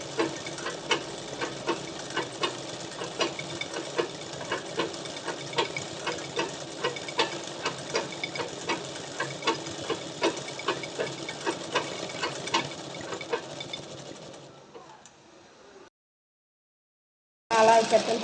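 A machine-embroidery sewing machine stitching a petal, running in a fast steady rhythmic patter at moderate level, slowing and stopping, then a brief silence before a short burst of noise.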